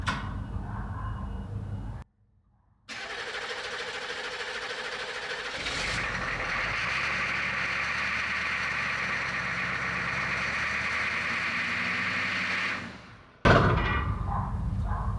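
An abandoned Humvee's engine runs with a steady, rough mechanical drone that holds for several seconds, broken by brief cutouts and a sharp clunk near the end, heard close with no speech.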